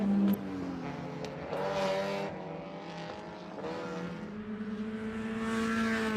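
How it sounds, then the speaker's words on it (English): An MG Midget race car at an SCCA Hoosier Super Tour road race in Portland drives through a chicane, its engine note changing as it brakes and accelerates. The engine is steady and fairly close, heard on its own with no talk. "There is that beautiful Bill O'Kell MG midget"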